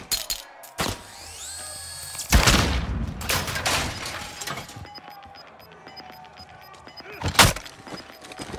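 Bursts of video game gunfire crack out in rapid volleys, with sharp isolated shots between them and a faint electronic tone in the background.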